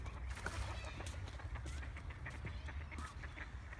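Outdoor scene with many birds, likely ducks, quacking and squawking continuously at a moderate distance, overlapping calls over a low rumble of wind or background noise, fairly faint overall.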